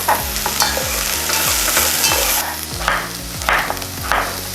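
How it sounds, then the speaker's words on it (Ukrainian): Vegetables sizzle in a hot pan, punctuated by a series of regular scraping stirs and soft thuds, loud and close with no voices. "смажу овочі на мінімальній кількості олії"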